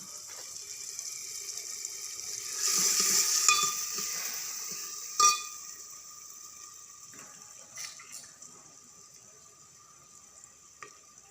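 Fenugreek seeds roast with salt and chili in a pan for a dry turnip dish, giving a steady low sizzle and stirring scrape that swells briefly loud, with a sharp clink of a utensil midway and quieter clatter later.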